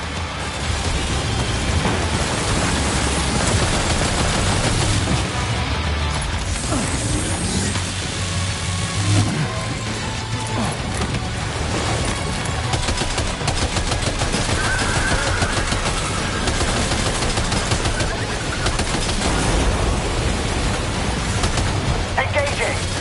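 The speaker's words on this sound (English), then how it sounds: "Opening fire now." Gunfire rattles on continuously in dense, heavy bursts that blend into a loud roar, with a voice talking over it at times.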